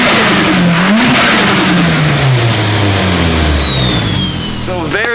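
A freshly built SR engine car revs loudly and close at its first start-up, raspy pitch climbing and falling in sweeps, with people talking over it.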